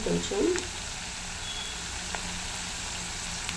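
Ginger garlic paste hits hot oil in a pan and sets off a soft, steady sizzle. A brief louder burst comes at the start, then a quiet frying hiss continues throughout.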